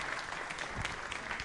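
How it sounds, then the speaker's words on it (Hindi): Studio audience applauding a quiz show contestant, a steady wash of dense clapping held at even loudness for a moment, with no voices over it. "नीरज जी के लिए तालियां बजाइए सर, जोरों से"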